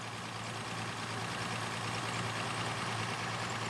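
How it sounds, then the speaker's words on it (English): An engine fitted with a Zenith 3540 carburetor runs steadily with a low, even drone, heard faintly and alone with no clear revving surges. "you've got to rev the engine a little bit to clear it out"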